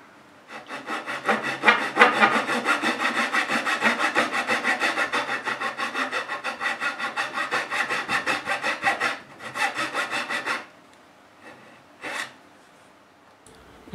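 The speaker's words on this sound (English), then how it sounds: "I've got to go ahead and cut the dovetails." A hand saw cuts dovetails in wood for a chest of drawers. Quick, rhythmic rasping strokes repeat steadily up close for about nine seconds, then a few slower strokes follow, with no talking.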